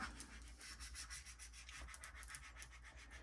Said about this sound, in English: my spatula and I'm going to just burnish over it. I'm just going to rub it.